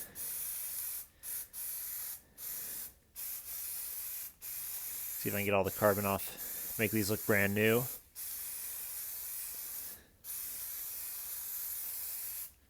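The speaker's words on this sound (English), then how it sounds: "I'm also going to spray this pan." Repeated sharp hissing bursts of a carbon-removing cleaner spray bottle onto a cookware pan, several short pumps separated by pauses, with a voice speaking briefly in the middle.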